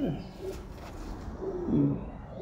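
Madras breeder pigeons coo softly at close range, a few low warbling calls rising and falling over faint room noise.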